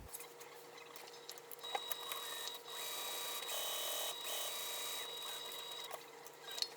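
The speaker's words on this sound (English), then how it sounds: "I'm going to go ahead and sew all 4 sides of the webbing to get that attached to my exterior main" Quiet whirring of a sewing machine stitching webbing onto exterior fabric, running in short bursts with a longer steady run in the middle, faint and close with no talk.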